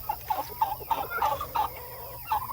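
Meat-bird chickens, some of them roosters, cluck in a rapid run of short, close calls with brief pauses between, fairly soft and heard alone without talk.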